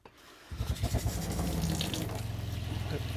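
Water gushing steadily from a camper's water line as it is drained for winter, a loud continuous rushing flow that starts abruptly after a brief quiet moment and keeps going.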